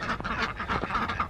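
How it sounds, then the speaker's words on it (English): Ducks quack in a brief, close burst just before winter feeding, several overlapping calls crowding together with no talking. "Good morning, ducks."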